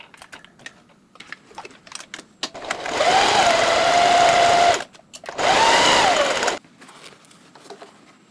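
Home sewing machine top-stitching the brim of a fabric hat runs in two steady bursts of a few seconds each, separated by a brief pause, with light clicks and handling before and after.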